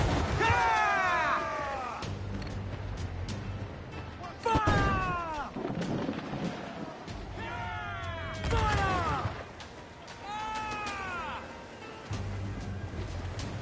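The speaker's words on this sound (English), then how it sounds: "Cannon! Get out of range!" Cannons fire in naval combat in Assassin's Creed Black Flag, heavy booms arriving in several separated salvos, each followed by whistling, descending shell sounds, with shouting voices and a rumbling sea-battle background between them.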